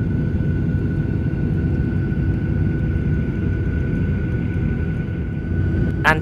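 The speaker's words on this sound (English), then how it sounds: "Lifting off the ground right now is Qantas 670 for Melbourne." A Qantas airliner lifts off from Adelaide airport, heard from inside the cabin as a steady, low engine roar with a faint high whine running through it.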